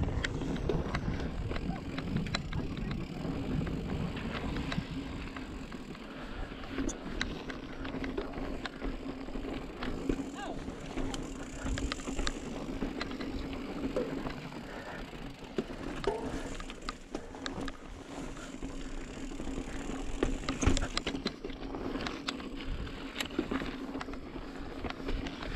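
A mountain bike rolls along a rough trail, tyres crunching and gear rattling under steady wind buffeting the microphone, with occasional sharper knocks and thumps from rocks and pedal strikes, fairly quiet overall.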